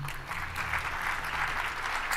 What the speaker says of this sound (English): I'm not sure why you clap for that.